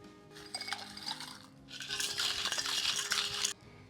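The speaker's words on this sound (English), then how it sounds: "let's get some crushed ice in there and shake this one up" Crushed ice rattling in a cocktail shaker during mixing of a blue tiki cocktail, a steady close churning clatter in two bursts with a brief pause between, with no one talking.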